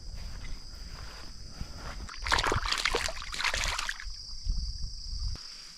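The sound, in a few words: fish splashing at water surface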